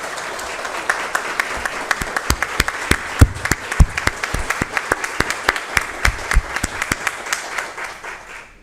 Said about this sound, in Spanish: quiero que todos le tributemos un aplauso